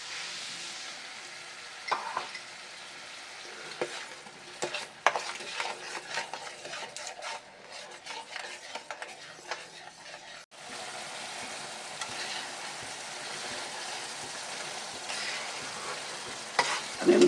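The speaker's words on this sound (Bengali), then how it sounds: "আমি মশলাটা একটু হালকা কষিয়ে নেব।" Vetki fish frying with mustard paste and green chilli in a pan, a steady sizzle under repeated stirring and scraping, with a few sharper clinks of a utensil against the pan.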